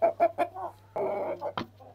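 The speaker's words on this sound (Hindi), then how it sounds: "ये जी हमारा वाइट मुर्गा है" A white Shamo rooster clucks in short bursts, several quick near notes followed by a longer, throaty cackle, close by against a low steady hum.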